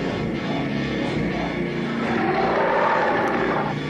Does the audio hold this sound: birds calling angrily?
no